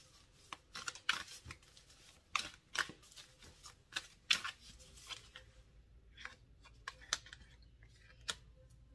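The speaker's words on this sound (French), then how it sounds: "je voulais tirer une dernière carte aussi, pour voir 3 dernières cartes, pour compléter peut-être le tirage." Tarot cards are shuffled and drawn by hand, with irregular crisp snaps and riffles close up in quick bursts, then sparser soft clicks, with no talking.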